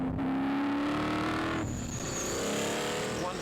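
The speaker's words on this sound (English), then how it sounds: "Wonderful sounds from the 5-litre stock block, fuel-injected V8." A Lola T430 F5000 race car with a 5-litre stock-block fuel-injected V8 roars loudly at racing speed, engine note climbing, dropping briefly at a gear change, then rising again under sustained throttle.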